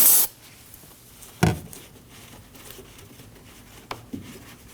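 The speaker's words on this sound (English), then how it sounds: "We'll use our brake parts cleaner and clean around the cap." Brake parts cleaner sprays around a reservoir cap on a 2003-2006 Subaru Baja during front brake caliper work: a short, sharp hiss at the start, then a second brief burst and a few faint taps.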